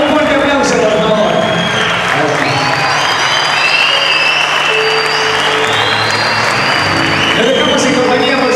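An audience at an outdoor band concert gives loud, sustained applause with some cheering for a vocalist, with voices and music tones drifting through the clapping.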